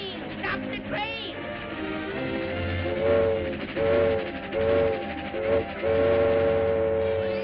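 A cartoon train rolls along with a rhythmic chugging and clacking, and repeated whistle toots sound mid-clip, under excited cartoon voices and music.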